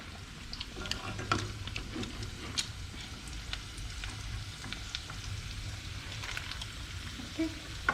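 Meat and potatoes cook in a pot, giving a quiet, steady sizzle with scattered soft pops and occasional stirring scrapes, close by and fairly faint, with no one talking.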